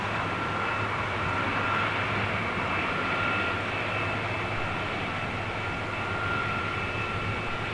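Rolls-Royce RB211 jet engines on an aircraft at Heathrow drone in a steady, loud roar that holds level throughout, with a faint high whine layered above the broad rumble.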